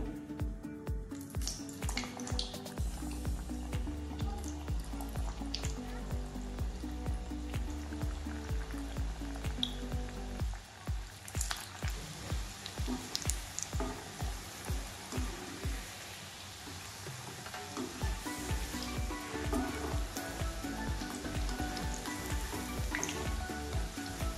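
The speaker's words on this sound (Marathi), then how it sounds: "छान असं भज्यांना सोनेरी रंग येईपर्यंत आपण ते व्यवस्थित तळून घेऊया।" Bhaji pakoras for kadhi pakoda deep-frying in hot oil in a kadhai, a loud, dense crackling sizzle that bubbles continuously, with repeated clinks and scrapes and a brief drop in intensity midway.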